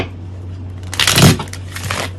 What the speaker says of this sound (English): Gonna shuffle one more time